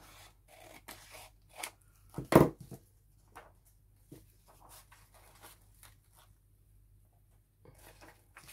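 Scissors cut through a book page for decoupage in a few short, crisp snips, one noticeably louder, close up and otherwise quiet, with small paper rustles between cuts.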